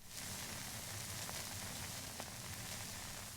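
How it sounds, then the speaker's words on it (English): Soft, dense crackle and hiss like a worn vinyl record, produced by a software synthesizer effect, faint and continuous with occasional sharper pops. "we can get a nice crackle of a sort of record"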